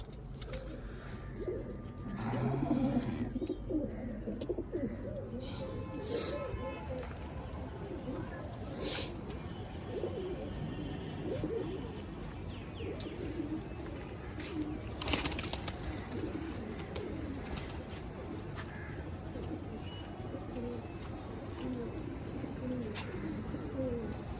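Domestic pigeons coo softly and repeatedly on a sunny rooftop loft used for pigeon flying, a low steady murmur running throughout with someone talking over it.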